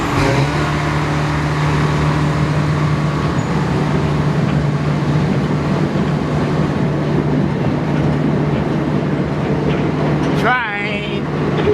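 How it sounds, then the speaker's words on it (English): A small park train in Bundaberg, Queensland, rumbles past steadily with a constant low hum and rolling noise, and voices talk over it near the end. "Train."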